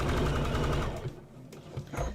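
A sewing machine stitching across a quarter-inch seam, a rapid close mechanical chatter that slows and stops, then a couple of brief restarts.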